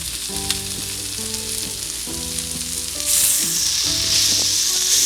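A tablespoon of flour cooks in a frying pan while a creamy chicken mushroom Marsala is made: a loud, continuous frying hiss over steady tonal background notes, with no talk.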